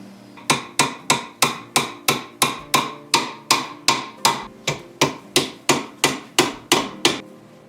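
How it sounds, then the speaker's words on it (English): Hammer driving nails into wooden posts: about twenty sharp, evenly spaced blows in a steady rhythm, close and loud, with no voices. "I'm going to attach the main posts with nails"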